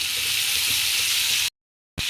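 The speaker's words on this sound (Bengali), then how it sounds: "এবার আমি টমেটো কাঁচা লঙ্কা আর পেঁয়াজ কুচি এর মধ্যে দিয়ে দিলাম" Tomato, green chili and chopped onion fry in a hot pan, a loud continuous sizzle with light stirring scrapes, cutting off briefly near the end before resuming.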